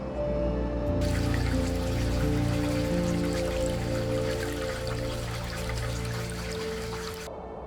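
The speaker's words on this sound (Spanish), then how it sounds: "El río es pura violencia, aguas bravas, rápidos, tramos donde el agua desciende metros en cuestión de segundos." Whitewater rapids on a river in a deep Tibetan canyon rush and churn in a steady, dense roar of pouring water, constant and fairly close, with no voices.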